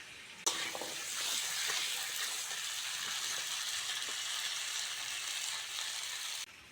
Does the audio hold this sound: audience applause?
no